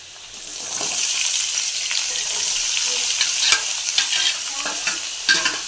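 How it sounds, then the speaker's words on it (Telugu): Cabbage hits a pan of fried onions and curry leaves, bursting into a loud close sizzle with repeated spatula scrapes and taps as it is tossed, no speech. "ఇప్పుడు ఆనియను వేగింది. క్యాబేజీ వేసుకుందాం."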